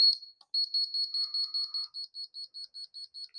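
A high electronic beep from a strip-light controller sounds once, then a rapid series of short, evenly spaced beeps continues steadily, clear and alone.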